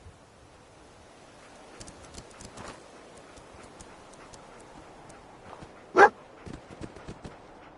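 The dog companion in Fallout 4 gives a single sharp bark near the end, loud against a quiet background of faint ticking and footstep-like taps.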